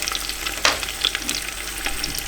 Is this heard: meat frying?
yes